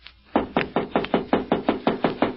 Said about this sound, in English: Now, I'll knock.